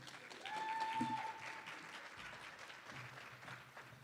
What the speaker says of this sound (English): How about a warm round of applause for Lori?